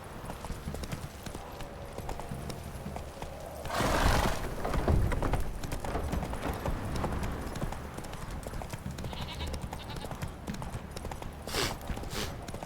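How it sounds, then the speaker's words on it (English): A horse gallops in The Witcher 3 video game, its hooves clip-clopping steadily with a brief whinny and louder bursts, close by, with no talking. "Run, Roach"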